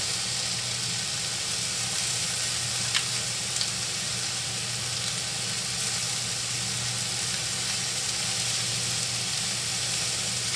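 Hash browns sizzle steadily in a pan, a continuous even frying hiss at moderate level with no talking and only a couple of faint clicks.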